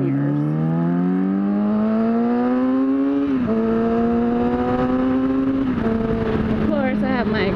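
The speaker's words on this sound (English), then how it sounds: "Of course, I have my exhaust, which I absolutely love. It's an M4 exhaust." A car engine with an aftermarket M4 exhaust revs up with a deep, throaty note, climbing in pitch, briefly dipping, then droning steadily and loudly close by.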